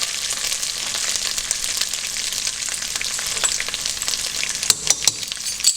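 Red chili powder hitting a hot pan of frying food, a steady close hiss of sizzling with occasional stirring clicks and scrapes, loudest near the end.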